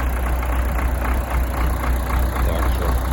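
An MTZ-80 tractor engine idles nearby with a steady low diesel rumble and faint irregular pulsing, holding an even level throughout.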